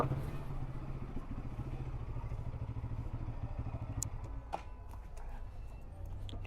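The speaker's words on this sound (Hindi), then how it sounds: "लो भाई, बाइक कर दी पार्क।" A motorcycle, back from a long solo highway ride, rumbles in at low speed and is parked, its engine putting out a steady low throb, with a few light clanks and knocks toward the end.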